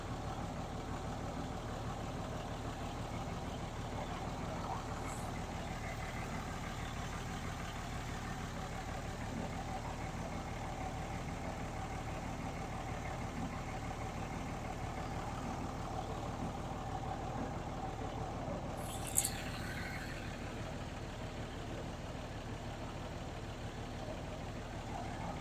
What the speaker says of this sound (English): just because of the truck running